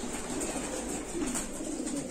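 Pigeons coo in a loft of prized platinum breeding birds, with a steady low murmur of overlapping calls and no voices.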